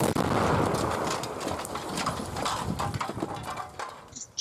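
A car bomb explodes in a deep blast followed by a rumbling, crackling tail that slowly fades, with scattered debris-like pops near the end.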